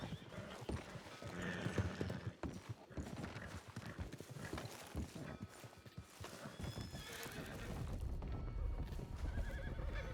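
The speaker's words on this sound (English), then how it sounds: "I heard horses." Horses neigh and whinny amid steady clip-clopping hooves, close by, with a busy, continuous mix of stamping and movement.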